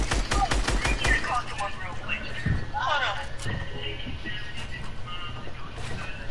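Rapid video-game gunfire crackles in short bursts through the first half, mixed with overlapping talk from players, then thins to scattered shots under continued chatter.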